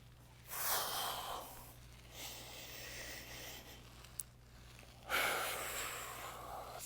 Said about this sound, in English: Breathing, not holding any tension.